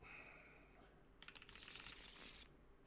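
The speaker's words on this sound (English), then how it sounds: "And we will shuffle everything up." Game cards being shuffled close by: a quick run of crisp riffle clicks, then a steady papery whir for about a second, fairly quiet.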